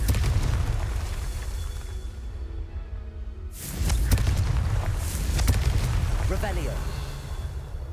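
Confringo blasting spell in Hogwarts Legacy, a loud rumbling burst that fades out, then a second heavy explosive blast with crackling debris and a brief voice over the tail.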